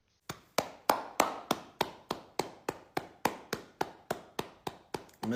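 A single person clapping hands in a slow, even rhythm of about three claps per second, each clap sharp and close, with no other sounds.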